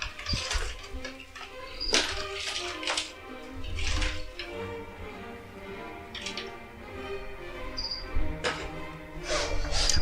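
Dense, continuous insect chirping fills the scene as crickets in a breeding setup are moved, rustling and trilling close by with scattered clicks and scraping movements throughout.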